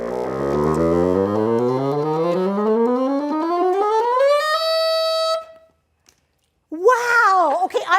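A bassoon played with its double reed climbs in a long, smooth rising run from deep low notes to a held higher tone, loud and resonant, followed by silence and a short burst of lively voices.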